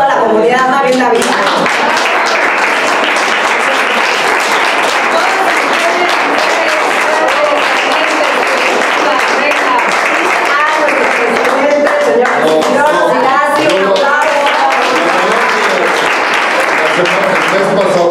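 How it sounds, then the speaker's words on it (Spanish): Strong sustained applause from a crowd at a community graduation celebration, dense clapping at a constant loud level for the full duration, with voices mixed in. "Vamos a darle un fuerte aplauso a la comunidad Mari Navidad."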